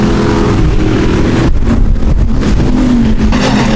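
Midwest Late Model race cars roar around an oval track, a loud continuous engine drone that dips and swells as the cars pass, with no voices.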